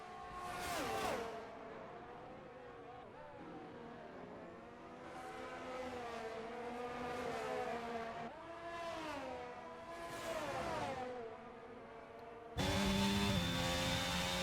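Race cars lap a track in a PC racing video game set at Brazil, engines revving and shifting through rising and falling pitch sweeps, steady and fairly loud, with a sharper, louder engine cutting in at the end.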